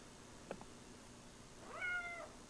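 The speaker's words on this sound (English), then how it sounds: "The cat!" A house cat gives a short meow near the start and a longer, rising-and-falling meow about a second later, close and fairly loud in a quiet home.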